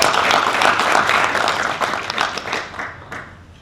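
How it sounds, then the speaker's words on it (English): Audience applause at an annual construction industry event, a dense wash of clapping from a large crowd that thins out and fades over the final second. "You're allowed to clap for us if you want."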